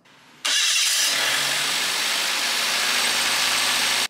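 A car engine cranks and catches abruptly after a brief pause, then settles into a loud, steady idle close by.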